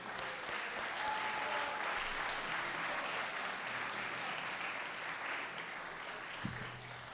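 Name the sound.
round of applause for Tom Jordan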